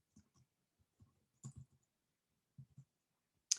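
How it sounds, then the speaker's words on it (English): A computer mouse clicks sharply several times in a quiet room, with short soft clicks spaced irregularly and one brighter click at the end. "then hold that down and then click with your mouse"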